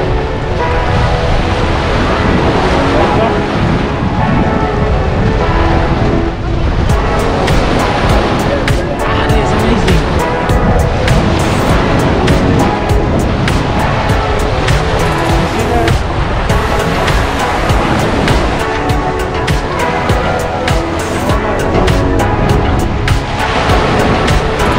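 Ocean waves captured on a GoPro 9 action camera, a loud, constant rushing surge of surf and water noise with wind buffeting, close to the microphone and roaring throughout.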